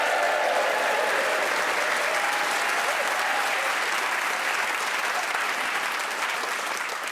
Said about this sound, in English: Please whoop and cheer for all four of them.